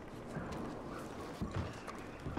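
Horses shifting and stepping in Red Dead Redemption 2, soft clip-clop of hooves on ground with faint movement, quiet and mid-distance, a few heavier thuds near the end.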